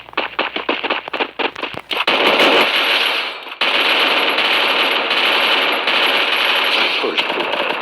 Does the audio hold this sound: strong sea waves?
no